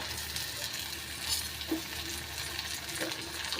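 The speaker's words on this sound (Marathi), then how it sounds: "टोमॅटो आणि कांदा व्यवस्थित शिजवून घ्यायचा आहे त्याचा कच्चटपणा निघेपर्यंत तेलामध्ये फ्राय करत" Tomato and onion fry in oil with curry leaves, giving a fairly quiet, even sizzle that runs throughout, with a couple of soft stirring knocks and no talking.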